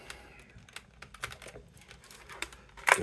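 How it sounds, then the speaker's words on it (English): Computer keyboard being shifted aside on a desk, a run of light plastic clicks and taps with a louder clatter at the end, close and clear. "Get this keyboard out of the way"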